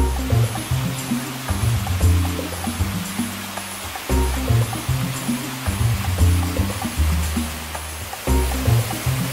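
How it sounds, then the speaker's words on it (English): A large waterfall in South Wales, about 90 feet tall, roars as a steady, loud rushing of water, continuous and close, with no talk over it. "we're about to check out, I think what I read was the largest waterfall in the UK, like 90 feet tall."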